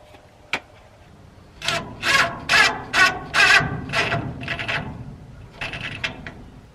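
A screw fitted with a washer is driven into wood, giving a series of about six loud grinding, ratcheting bursts in quick rhythm, then a few fainter turns, with a sharp tick at the start.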